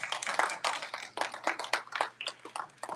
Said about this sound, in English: give Ty a round of applause